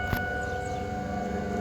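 Civil defense tornado sirens sound during a tornado near Wamego and Louisville, a steady droning wail held evenly across the clip with a brief thump near the start.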